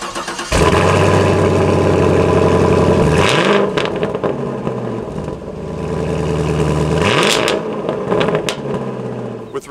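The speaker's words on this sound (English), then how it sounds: "The exhaust sounds pretty incredible." A 2020 Chevrolet Camaro 2SS with stainless steel quad exhaust starts up and runs, its loud, deep engine note swelling in two strong revs over a rumbling idle, heard alone and close.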